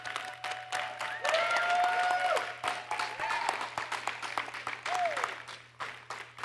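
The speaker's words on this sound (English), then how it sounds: "Can we give a round of applause to each and every team that's competed?" Audience at a robotics tournament conference clapping for the competing teams, a sustained round of applause that swells and fades over several seconds, with whistles or shouts rising above it.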